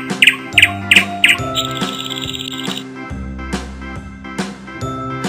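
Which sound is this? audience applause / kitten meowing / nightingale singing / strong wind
nightingale singing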